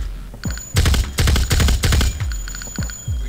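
A TMP-like automatic gun in Madness Interactive firing in several loud, rapid bursts, each a tight string of sharp cracks with short pauses between, no talking.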